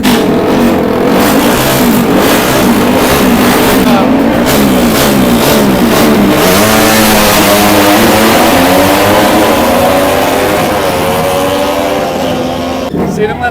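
A misfiring race car engine revs loudly and roughly at a motor show, sputtering, its pitch climbing and dipping in a continuous close roar.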